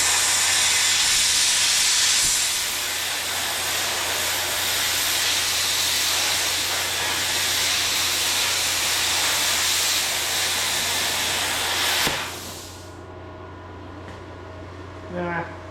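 Freshly unboxed Vevor plasma cutter giving a loud, steady hiss of rushing air with the pressure turned up, holding for about twelve seconds before cutting off abruptly, leaving a faint background hum.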